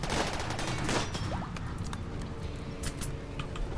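Charge SMG or LMG fire in RimWorld, a dense continuous patter of rapid shots under a busy battle mix, fairly quiet and steady across the whole stretch.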